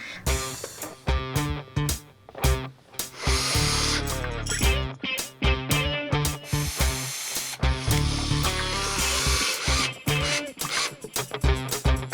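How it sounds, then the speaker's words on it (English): A power drill whirs loudly in repeated bursts, winding up and stopping several times as holes are drilled, close by. "And then I know where to drill."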